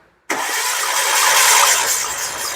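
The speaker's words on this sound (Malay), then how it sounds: "Start engine." A Hyundai Getz engine fires up abruptly after brief silence and settles into a loud, steady running roar, close and alone.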